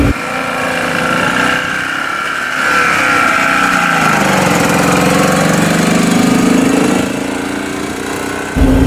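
The small engine of a BMW Isetta microcar labors up a hill, a loud, close, buzzing drone that rises and sags as it strains.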